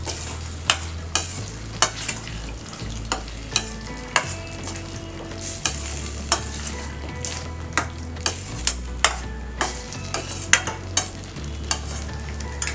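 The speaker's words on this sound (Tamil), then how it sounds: "இதை வந்து கலக்கிடுங்க. மீடியம் ஃப்ளேமில் வச்சுக்கோங்க." Spleen masala frying in a pan on a medium flame, stirred with a utensil that scrapes and taps sharply at a steady rhythm over a constant close sizzle, with no one speaking.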